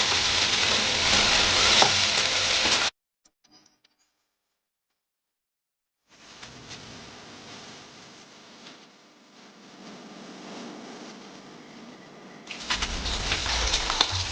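Okra and potatoes fry in a wok with a steady hissing sizzle, broken by a few seconds of silence, then a softer sizzle that swells louder toward the end.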